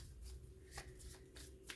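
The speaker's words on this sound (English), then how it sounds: "let me just shuffle this deck" A deck of tarot cards is shuffled by hand in a quiet room, giving a few soft, papery bursts of riffling and sliding at irregular intervals, close and low in level.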